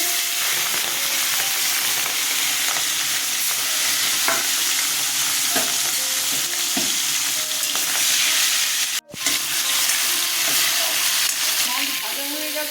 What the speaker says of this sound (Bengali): তেল গরম হয়ে গেছে মাছগুলো ছেড়ে দিচ্ছি